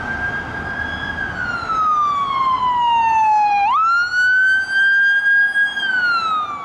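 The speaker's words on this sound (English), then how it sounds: "you hear an ambulance siren coming towards you" An ambulance siren wails loud and clear as it approaches, its long tone sliding steadily downward, then jumping up sharply as the Doppler shift flips, and continuing in a high sweeping cry over faint road noise.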